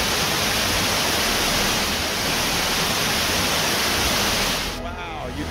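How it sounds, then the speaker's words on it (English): Helton Creek Falls, a waterfall south of Blairsville, Georgia, pours with a loud, steady broadband roar close by, easing slightly and turning windy in the final half second. "As the water comes down the waterfall"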